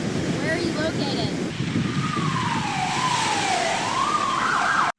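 An ambulance siren from the movie Birdemic 2 wails up and down loudly over a surf-like wash of noise, following a short burst of other sound at the start.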